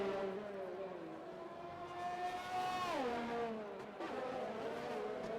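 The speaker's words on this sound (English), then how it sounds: "listen to the revving of the engine" A race car engine in a racing video game set in Singapore revs and climbs in pitch with a brief shift, droning steadily at low volume beneath commentary.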